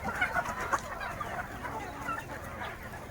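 Free-range chickens cluck in an open farm field in the morning, several birds close by giving short, scattered clucks over a steady outdoor background.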